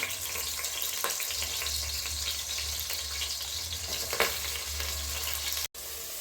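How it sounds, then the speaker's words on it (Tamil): Ground onion frying in oil for Vellore chicken biryani, a steady close sizzle with occasional stirring scrapes, a low hum beneath and a brief cut near the end. "வெங்காயத்தை நல்லா வதக்கிக்கிடுவோம்."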